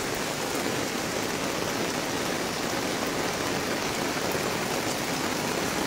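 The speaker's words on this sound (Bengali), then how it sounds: "ভারী বৃষ্টি হচ্ছে, কালকে রাত থেকে ভারী বৃষ্টি হচ্ছে" Heavy, steady rain pours down in Bandarban, a dense unbroken hiss with no pauses and no voices.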